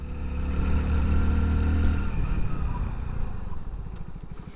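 A 2025 Hero HF Deluxe Pro motorcycle with combined braking rides along, its mid-pitched engine droning steadily and then easing off as it slows.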